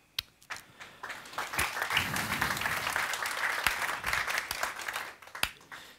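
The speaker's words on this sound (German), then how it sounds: "Sie können auch dann Hände klatschen, aber es ist natürlich auch schön, wenn Sie das am Anfang schon machen." Audience at a public talk on cancer medicine applauds, a dense, steady patter of many hands clapping across the whole stretch, with a few louder individual claps standing out near the start and end.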